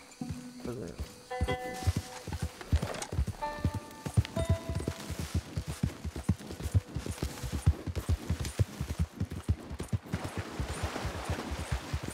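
Horse hooves pounding in a fast, steady gallop rhythm in Red Dead Redemption 2, with soft in-game music tones early on and someone talking over the hoofbeats.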